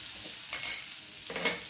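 Potatoes frying in a pan as a ground paste of ginger, black pepper, cumin and a little coriander goes in, giving soft bursts of hiss and sizzle, a louder burst as the paste hits the oil, with faint stirring.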